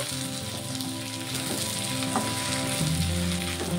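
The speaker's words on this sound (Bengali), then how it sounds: "মাছের সাথে পেঁয়াজ রসুনটাকে একটু ভেজে নেব।" Fish frying with onion and garlic in a pan gives a steady, close crackling sizzle throughout, with a few faint utensil touches.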